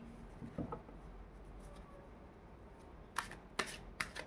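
Tarot cards are drawn and handled during a reading, giving quiet papery rustles and a few crisp slapping taps close by in an otherwise hushed room.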